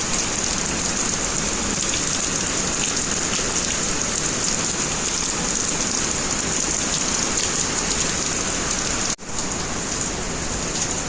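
Heavy rain pours down steadily in Nellore, a dense hiss drumming on surfaces and windows throughout, loud and close with a brief drop near the end.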